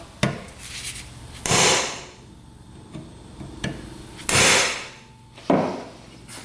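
Several sharp metallic hammer strikes on a Kubota diesel UTV that won't start land at irregular intervals, a few seconds apart, each ringing briefly over a quiet background.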